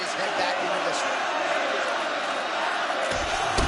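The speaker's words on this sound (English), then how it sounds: "So the crowd voicing its appreciation after that round." A large crowd cheers and roars steadily after a round at a mixed martial arts fight event, a dense wash of voices close and loud throughout, with a muffled thump near the end.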